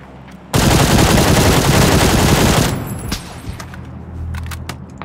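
Loud sustained burst of automatic gunfire in the battle-royale game PUBG, rattling for about two seconds before dropping to a quieter tail with a few scattered distant shots and low rumble.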